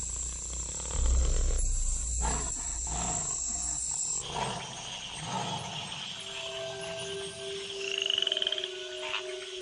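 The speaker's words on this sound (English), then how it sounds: "In the wake of the rains, the tree frogs gather for bouts of communal coupling." A chorus of tree frogs croaking and trilling nearby after rains, overlapping calls in bursts with a steady high-pitched buzz and tonal whistles running underneath.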